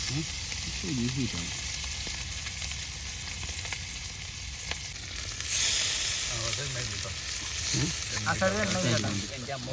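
Pearl spot fish (karimeen) fries in a pan with a steady, close sizzling hiss throughout, while people speak over it and a few louder spattering crackles come near the end.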